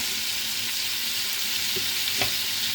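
Shrimp fry in a pan with a steady, dense sizzle close up, and a couple of faint knocks rise briefly near the end.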